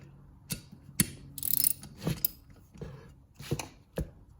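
A 1/2 inch ratchet works on the water pump of a Chevy 350 engine, giving sharp, close metallic clicks in short separated bursts, with no talking.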